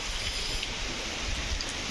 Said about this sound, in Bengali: মেঘ করেছিল, এই বৃষ্টি শুরু হয়ে গেছে এবার।